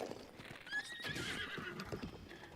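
A horse in a Zelda video game whinnies with a loud, shrill neigh over soft clip-clopping hooves and game ambience, with no talking.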